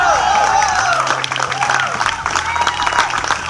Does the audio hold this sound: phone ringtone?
no